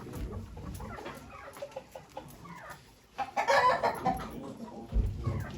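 Chickens and a rooster cluck and squawk at a poultry auction in Ankara, a busy cluster of calls with a louder burst of fowl voices midway, over crowd murmur and talk.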